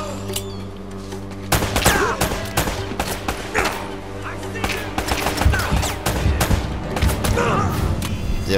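Rapid bursts of in-game gunfire in Uncharted: Drake's Fortune Remastered, dense overlapping shots and fusillades, loud and close, continuing almost without pause through the stretch with some muffled voice activity underneath.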